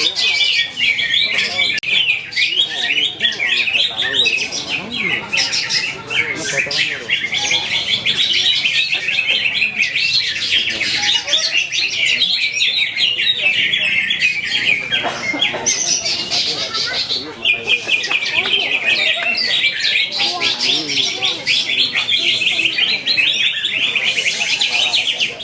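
A green leafbird sings in a bird contest, its loud, continuous high chirps, trills and squawks running unbroken for the whole stretch, with voices and other contest birds faintly underneath.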